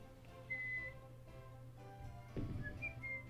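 Whistles played as a sound effect during a Pokemon tabletop role-playing session: a few short, clear high whistle tones separated by pauses, over a low background hum, with a brief rustle midway.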